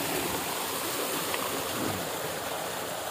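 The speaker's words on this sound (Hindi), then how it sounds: "ये ट्यूबवेल चला रही है" Water gushes steadily from a running tubewell on a date farm, a loud, constant rushing stream close by with no pauses and no talk.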